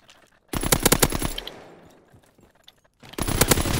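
Minigun fire in Call of Duty WW2 comes in two loud, rapid bursts of shots, one early and one near the end, separated by a fading echo and near-quiet.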